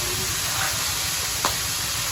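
Field crab shells frying in hot oil, a steady dense sizzle and hiss running throughout with one brief crackle near the middle, close and fairly loud with no voices.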